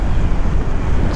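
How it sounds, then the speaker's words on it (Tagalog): Strong wind roars continuously against the microphone while riding a Honda PCX160 scooter on a bypass road, a dense low rushing noise with no pauses, like air rushing past while moving. "Lakas ng hangin dito"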